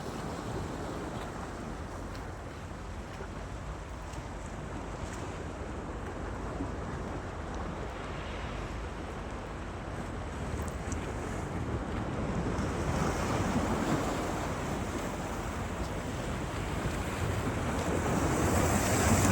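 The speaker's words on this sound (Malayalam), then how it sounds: "കടലിൻ്റെ നല്ല ശബ്ദവും നമുക്ക് കേൾക്കാനായിട്ട് സാധിക്കുന്നുണ്ട്" Sea waves wash steadily against the shore at Civitavecchia near Rome, a continuous close surf roar mixed with wind buffeting the microphone, swelling slightly louder toward the end, with no voices.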